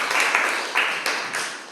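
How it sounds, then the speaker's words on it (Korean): A small audience claps for a poet, a few short bursts of applause that rise and fade in quick succession, fairly close and moderately loud. "우리 정지용 시인에게 박수 한 번 안 보낼 수 없어요."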